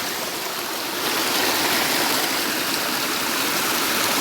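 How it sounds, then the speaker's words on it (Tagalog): A strong stream swollen by heavy rain rushes and roars steadily nearby, a loud, continuous broadband wash of flowing water with no voices. "Malakas ang tubig kasi ang lakas ng ulan kahapon."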